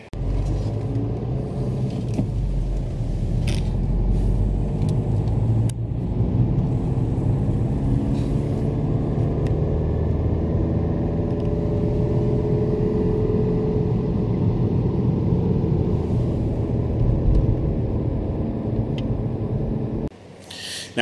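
A car on a test drive after its camera-based traffic sign recognition system was recoded, heard from inside as a steady low road rumble and engine drone that runs continuously for about twenty seconds before briefly dropping.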